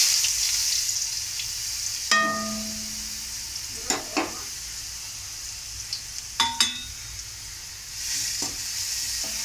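Ground paste frying with mustard seeds in a pan for a Kerala-style long beans stir fry, a steady sizzle punctuated by a few sharp stirring clatters and spatula scrapes, close and alone with no voices.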